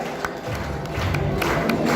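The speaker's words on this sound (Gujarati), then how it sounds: "તાળીઓથી વધાવી લઈએ મિત્રો" An audience at a community prize-giving ceremony claps and murmurs, a broad crowd wash that swells slightly and holds steady, with a few sharper individual claps standing out near the front.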